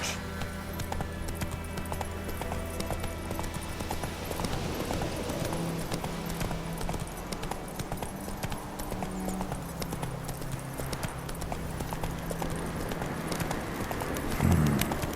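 Roach the horse's hooves clip-clop steadily through The Witcher 3, a continuous rhythmic patter over low ambient game music, with a brief louder rustle near the end.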